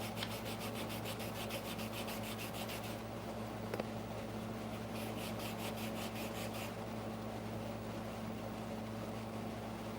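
Steady hand sanding on a metal punch set, a continuous rhythmic rasping scrape of abrasive strokes that pulses in bursts, close and moderately loud, with no talking.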